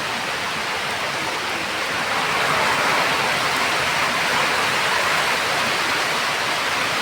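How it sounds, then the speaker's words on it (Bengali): Heavy rain pours steadily with strong wind during a midday storm, a dense, loud, continuous wash of noise that swells slightly partway through and holds without pause. "সেরকম বৃষ্টি হচ্ছে, হাওয়া করছে"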